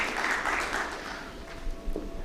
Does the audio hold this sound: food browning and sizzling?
no